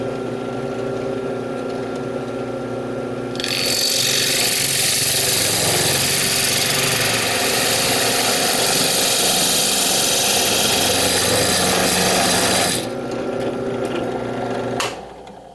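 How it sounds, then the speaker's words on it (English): Drill press spinning a hole saw through a plastic Nerf Lawbringer blaster part: steady motor whine, then a loud, harsh grinding cut lasting about nine seconds before the motor winds down. "I'm going to take this over to my drill press, and I have a hole saw already set up"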